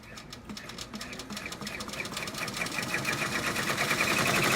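A sewing machine stitches a UGA Converse shoe in a fast, steady mechanical chatter that builds slightly louder over a few seconds, close up with no talking.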